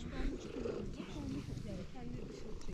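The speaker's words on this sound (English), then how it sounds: "Purring." A tabby cat purrs softly in a seaside setting, a low rhythmic rumble beneath a person talking gently to it.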